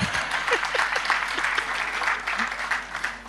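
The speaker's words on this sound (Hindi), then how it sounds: "अब ताली बजा दीजिए।" An audience at a poetry reading breaks into applause, a dense patter of clapping that swells and continues for several seconds, fading slightly toward the end.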